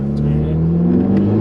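A Honda Civic Type-R FK2 engine pulling in first gear, a loud close-up drone with its pitch climbing steadily as the revs rise, brief higher whines above it.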